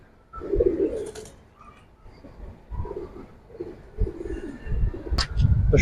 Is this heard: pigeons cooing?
yes